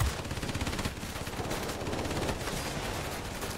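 Rapid continuous machine gun fire from a warplane in World of Warplanes, a dense fast rattle of shots sustained throughout, loud and close with engine roar beneath.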